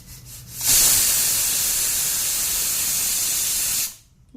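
A pressure cooker with sweet corn and capsicum curry vents steam in a loud, continuous hiss that bursts on suddenly, holds steady for about three seconds, then cuts off abruptly.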